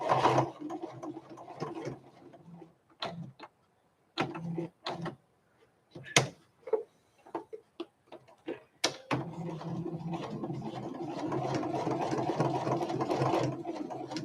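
A sewing machine stitches fabric forward and back in short bursts with pauses between, then runs in a longer steady whirring stretch near the end, close and clear.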